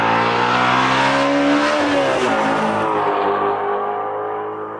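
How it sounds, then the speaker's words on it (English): A Ford Mustang Shelby GT350 with a flat-plane crankshaft V8 revs loudly and continuously, its rugged bellowing exhaust note climbing then easing off as it fades slightly toward the end. "it has a flat plane crankshaft like a Ferrari, it doesn't have the same scream that a Ferrari does"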